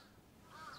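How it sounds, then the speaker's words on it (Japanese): Crows cawing in the samurai-era action game Like a Dragon: Ishin!, harsh calls rising briefly near the end of a short, faint stretch of ambient background. "カラスがギャーギャーうるさくってな。"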